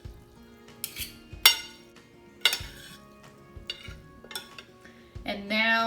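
Pasta primavera is tossed in a pan, giving sparse metallic clinks and scrapes of utensil on cookware with soft sizzling, ending in a brighter clatter and swish.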